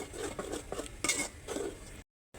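A utensil scrapes and clinks in a cooking pan while ginger, garlic and spices are mixed, with a quick run of close, light metallic taps and scrapes that ends in a brief cutout.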